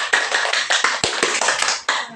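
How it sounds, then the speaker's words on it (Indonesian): Audience applause for the women who asked questions at a gathering, a dense patter of many hands clapping close by for a couple of seconds. "sebelumnya kita beri tepuk tangan yang meriah untuk ibu-ibu yang bertanya"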